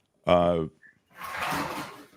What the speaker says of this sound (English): Let me just open this door.